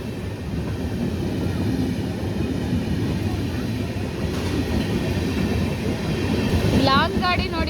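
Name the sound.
Bhubaneswar weekly superfast express train passing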